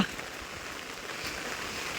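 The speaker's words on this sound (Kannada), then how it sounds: "ಜೋರು ಮಳೆ ಬರ್ತಾ ಉಂಟು" Heavy monsoon rain falls over a flooded road and paddy fields, a steady, fairly soft broadband patter with no voices.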